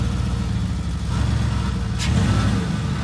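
An old Dodge's engine runs at moderate revs with a steady mid-low drone, rising slightly toward the end, with a brief sharp noise partway through.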